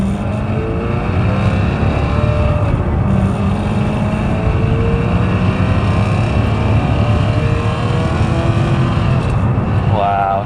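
A Maserati engine at light throttle hums with a steady, smooth drone and rising harmonic tones as the car gently accelerates, loud and close throughout.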